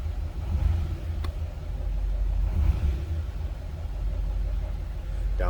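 A 1939 Ford Deluxe sedan engine idling after a push-button start, a low steady rumble close by with a faint click early on and a brief squeak at the end.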